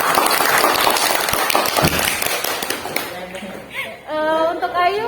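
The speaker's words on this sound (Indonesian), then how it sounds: "kasih tepuk tangan dulu dong" Classroom participants clapping, a loud dense patter of many hands at close range for about three seconds, then it fades and a voice starts speaking.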